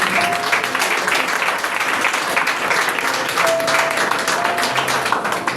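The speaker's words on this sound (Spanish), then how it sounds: "Dale un aplauso a Dios" Sustained applause from a church congregation after a pastor's sermon line, dense and steady throughout, with a faint tone or voice briefly rising above the clapping.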